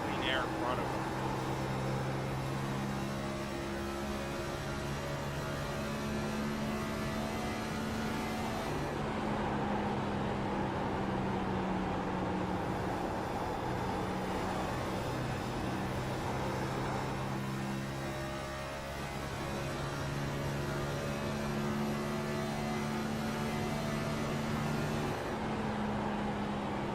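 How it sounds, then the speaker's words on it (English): Stock cars in an iRacing race at Atlanta Speedway run at full throttle, a steady loud engine drone with sustained harmonic tones that shift pitch slightly, while a voice talks over it throughout. "You can hear the amount of throttle these cars will take around the speedway"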